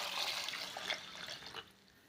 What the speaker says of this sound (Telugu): తగినన్ని నీళ్ళు పోసుకొని మూత వేసుకోవాలి ఫ్రెండ్స్